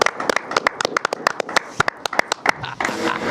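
A live-show audience claps in a quick, uneven burst to welcome a singer onto the stage, with sharp overlapping hand claps that thicken toward the end.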